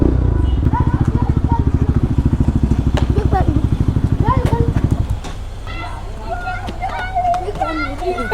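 Yamaha R1M superbike with an Akrapovic exhaust riding through city streets, its loud, rapid engine pulsing close for about five seconds before the revs drop to a lower idle-like rumble amid street noise.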